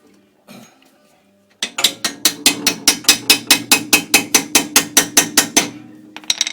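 A shock bolt is driven into a Porsche 914 transaxle during a rear bushing job, producing a loud, close, steady train of about twenty sharp metallic strikes or ratchet clicks, followed by a couple of stray knocks.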